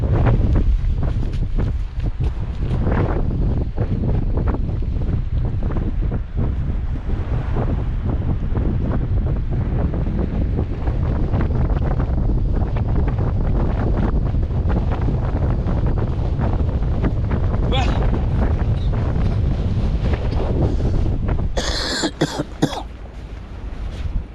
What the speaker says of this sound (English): the wind has picked up